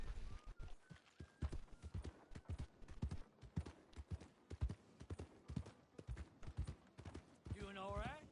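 A horse's hooves clip-clop in the video game Red Dead Redemption, quiet rhythmic steps running under steady talk throughout, with a whinny-like sound near the end.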